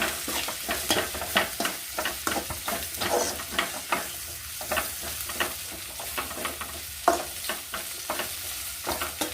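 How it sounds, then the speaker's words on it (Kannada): Bitter gourd and roasted potato pieces fry in a pan while a spoon stirs them, giving steady sizzling broken by repeated scraping strokes up close. "ಹಾಗಲಕಾಯಿ ಹಾಕ್ಕೊಂಡು ಸ್ವಲ್ಪ ಫ್ರೈ ಮಾಡಿ"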